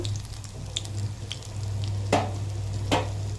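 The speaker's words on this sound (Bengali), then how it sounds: "লাল লাল করে ভেজে নেব" Chicken cutlets frying in oil sizzle steadily over a low hum, with two sharp scraping clinks near the end.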